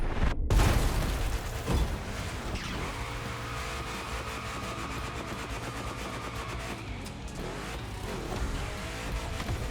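A 1,000 horsepower Camaro racing through a gymkhana course in the video game The Crew Motorfest, its engine roaring continuously and loudly, rising and falling through gear changes with bursts of tire squeal and skidding.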